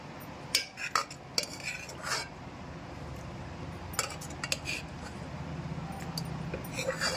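Quiet grinding and knocking as raw coconut and raw tomato chutney is crushed in a stone mortar, with sharp clinks and scrapes at irregular intervals over a low background.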